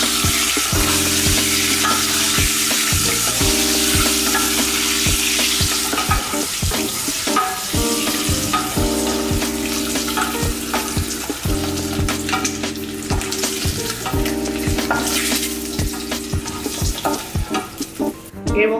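Boiled eggs frying in hot oil, a loud continuous crackle and sizzle close up, with a recurring rhythmic hum underneath and occasional clinks as they are turned.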